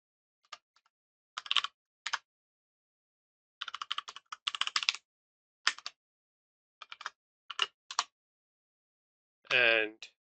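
Keys clatter on a computer keyboard in quick clusters of taps separated by silent pauses, close and clear, ending in a brief voiced sound.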